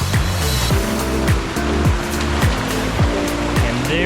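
Tumblin Fun Falls waterfall near Sapphire, North Carolina rushes with a steady broadband roar, loud and continuous, with some intermittent tonal engine-like sweeps overlaid and no speech.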